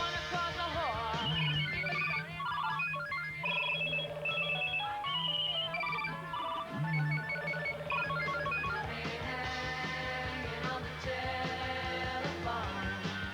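Several mobile phones ring at once in a petrol-soaked area, overlapping electronic ringtone melodies repeating steadily and fairly loud for the whole stretch, with no talking.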